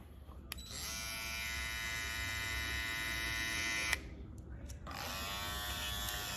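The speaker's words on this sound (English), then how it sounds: "That rotary motor, it sound weak, but it's good for me." Rotary-motor hair clipper, either a Babyliss FX3 or an Andis GTX-EXO, runs with a steady, close electric buzz and high whine. It cuts off near the middle and starts again a moment later, with no talking.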